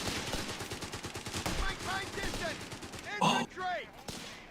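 Machine gun fire in a Company of Heroes 3 tournament match comes as rapid bursts mixed with other battlefield gunfire and a sharp loud crack, under a caster's excited commentary.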